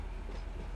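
Train wagons roll steadily in the Run8 train simulator game, a continuous low rumble with faint rhythmic rail clatter, brief and moderately loud.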